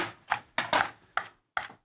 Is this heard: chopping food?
yes